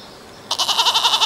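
A goat bleats in a rapid, wavering series of pulses, loud and close, starting abruptly after a moment of quiet room tone and continuing to the end.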